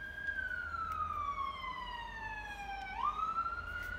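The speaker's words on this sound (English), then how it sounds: "sorry about the sirens" A police siren wails steadily outside, its pitch sliding downward before jumping back up, loud and continuous as it passes nearby.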